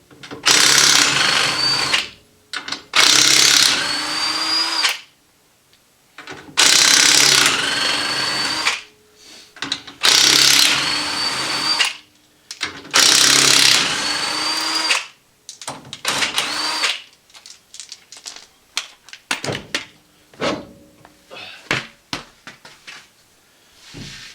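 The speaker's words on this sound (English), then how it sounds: "I got to take this tire off so I can get in there and drill correctly." A power drill whirs in repeated bursts of a few seconds each, drilling holes for brake line bulkhead fittings on a Fox-body Mustang, separated by pauses, followed by scattered clicks and handling sounds.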